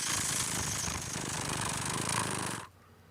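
Banknote counting machine riffling through a stack of $100 bills, a loud rapid fluttering whir that runs steadily for a few seconds and then stops abruptly.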